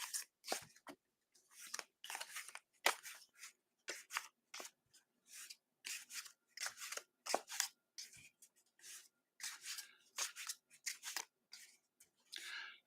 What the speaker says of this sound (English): And I'm going to shuffle the cards.